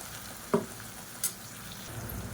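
Ground paste added to onions frying in a pan, giving a quiet steady sizzle with two brief sharp clinks of a spoon against the pan.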